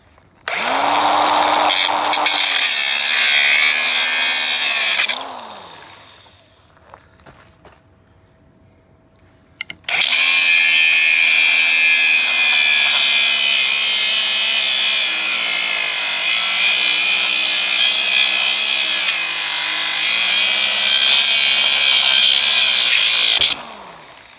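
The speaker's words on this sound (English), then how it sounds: "let me get my grinder out and get to work" An angle grinder cutting into an old structure in place since 1984, loud and close with a high whine in two long bursts and a short quiet pause between them.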